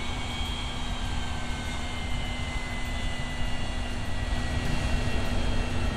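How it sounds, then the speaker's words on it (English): Steady, droning jet engine of a CIA stealth plane in the video game Yakuza 3 Remastered, a constant loud roar with a high whine that holds unbroken for six seconds, no talking. "it's the CIA plane"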